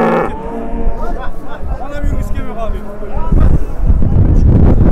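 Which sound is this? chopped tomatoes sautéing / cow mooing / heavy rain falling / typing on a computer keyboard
cow mooing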